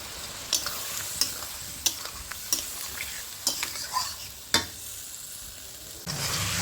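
Potatoes being sautéed with spices in a pan, a soft sizzle under repeated sharp scraping taps of a spoon stirring at an irregular rhythm, close and fairly quiet.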